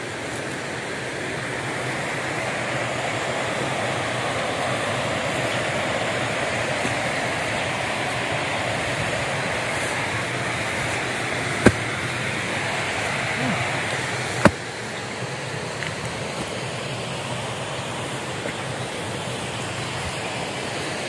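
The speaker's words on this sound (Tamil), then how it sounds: "இங்கே தான் அருவி ஓடிட்டுருக்குன்னு நினைக்கிறேன்" A waterfall flows down a hillside in Ooty, a steady broadband rushing hiss that holds evenly throughout, with a couple of sharp knocks and some quiet talk in the background.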